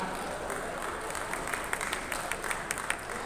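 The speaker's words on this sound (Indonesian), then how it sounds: "Tepuk tangan." A crowd at an event management summit in Indonesia gives scattered, fairly faint applause, with distinct individual claps standing out over a dense wash of clapping.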